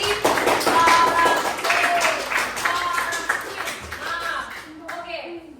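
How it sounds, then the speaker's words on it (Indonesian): Students in a classroom clap for a classmate, a loud, close patter of hands with chatter and voices mixed in, tapering off toward the end. "Oke, tepuk tangan untuk si para."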